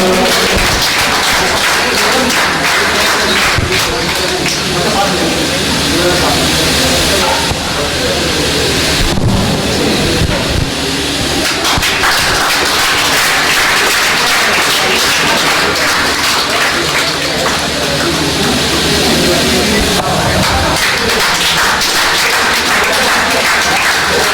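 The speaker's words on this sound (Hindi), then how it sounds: "जोरदार तालियों से स्वागत कीजिए इन दोनों का।" Sustained applause from an audience at a Hindi Diwas celebration held by CGHS in Ahmedabad, dense and continuous clapping filling the room at steady loudness for the whole stretch.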